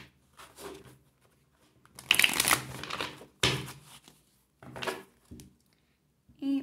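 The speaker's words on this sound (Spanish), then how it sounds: "Vamos a revolver un poquito las cartas." A deck of tarot cards being shuffled by hand, several distinct bursts of riffling and sliding cards separated by short pauses, close and fairly soft, with no voice over it.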